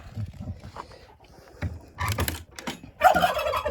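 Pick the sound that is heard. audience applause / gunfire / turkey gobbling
turkey gobbling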